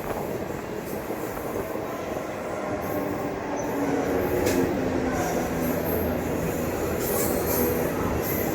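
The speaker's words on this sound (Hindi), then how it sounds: "भारत की सबसे पहली राजधानी के साथ अपनी क्रॉसिंग होने वाली है, जो कि हावड़ा से चलकर न्यू दिल्ली के बीच चलती है।" The 12301 Howrah Rajdhani Express between Howrah and New Delhi passing at a crossing: a loud, continuous rumble of rolling rail cars with squealing wheels and faint clatter, steady throughout with no talking.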